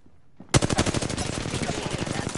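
Automatic gunfire in Apex Legends bursts in suddenly after near silence, a fast loud stream of shots that keeps going to the end.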